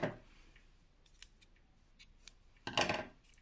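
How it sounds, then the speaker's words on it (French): Scissors snip through crochet yarn in a quiet room, a few soft scattered clicks followed by one louder, closer cut near the end. "je coupe mon fil"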